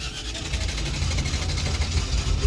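Motorbike engine, a Milan with gaptrain anti-wheelie fixes, running after being started: a steady, fairly loud engine drone with a rapid pulsing rhythm that swells slightly toward the end, heard without speech.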